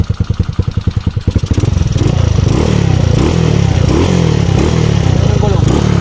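A Yamaha Mio Soul scooter fitted with a Keihin 28mm flatslide carburettor idles with a quick putter, then revs up hard and holds a loud, buzzing engine note with repeated throttle blips; someone talks over it.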